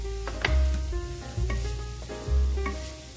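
Capsicum and vegetables frying with noodles in a hot pan: loud, close sizzling with several distinct spatula stirs and scrapes against the pan, alone without voices.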